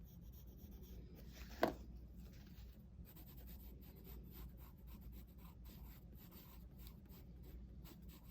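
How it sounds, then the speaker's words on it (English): A pencil shades a flamingo drawing on paper, soft continuous scratchy rubbing strokes, quiet and close, with one sharper tap near the start and no talk. "I'm just going back with my lighter pencil to kind of shore up some edges"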